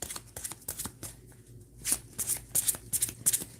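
Tarot cards shuffled for a card pull, giving quiet repeated riffling and flicking bursts at close range, building in intensity toward the end with no talk.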